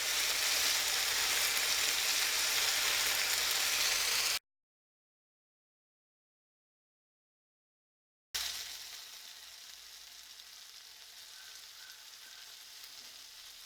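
Mutton frying in a pan with curry leaves tossed in, a loud continuous sizzle that cuts to silence for a few seconds, then returns with a sharp burst that settles into steady frying.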